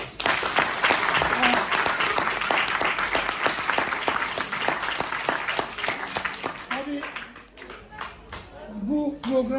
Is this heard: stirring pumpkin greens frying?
no